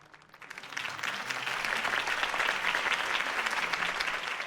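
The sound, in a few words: applause for a campaign speech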